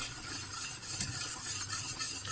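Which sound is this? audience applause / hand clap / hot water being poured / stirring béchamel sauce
stirring béchamel sauce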